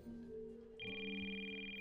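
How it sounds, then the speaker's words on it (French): A cartoon telephone starts ringing partway through, a bright steady electronic ring that sits over a low musical background and continues to the end. "Oh, désolé, c'est mon téléphone."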